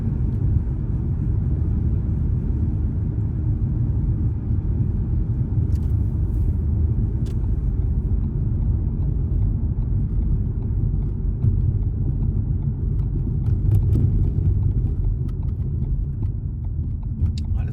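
Steady low road rumble from inside a car driving along Dillon Road in Desert Hot Springs, a continuous engine and tyre drone with a few faint clicks and no talking.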